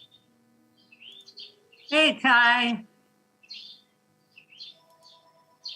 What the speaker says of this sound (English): I can hear birds somewhere.